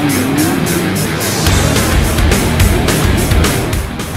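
Jet skis race on Lake Paris at an IGSBA Jettribe open event, with loud, continuous high-revving engine noise pulsing in rapid rhythmic bursts and a rising and falling pitch, close and dominant throughout.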